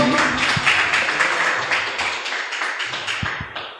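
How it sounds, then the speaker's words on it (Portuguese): A church congregation applauds in a dense, loud, sustained wave of clapping, with a few low thuds near the end as the applause slowly eases. "Você pode aplaudir o Senhor Jesus? Pode aplaudir."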